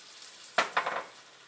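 Mushroom juice splashes into a hot risotto pan with two quick bursts of sizzling, trailing off into a soft simmer; no one speaks.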